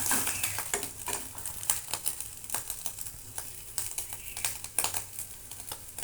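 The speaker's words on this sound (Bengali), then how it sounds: "বাদবাকি মাছের ডিমটা ভুজিয়ার মতো করে ভেজে নেব" Fish roe frying bhujia style in a pan, with a steady high crackling sizzle broken by frequent clinks and scrapes of a spatula against the pan, close and fairly quiet, with no talking.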